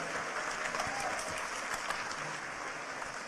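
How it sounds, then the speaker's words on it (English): An audience at a talk on the journey from Earth to Pluto breaks into dense, steady clapping that fills the room, with a few voices mixed into the crowd. "if you give him a big round of applause"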